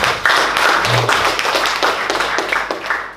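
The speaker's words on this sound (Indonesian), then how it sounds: "Tepuk tangan sekali lagi buat Tuhan" A church congregation claps hands together during a sermon, brisk bursts of clapping from many people in a room, fairly loud and close, with a short low vocal sound partway through.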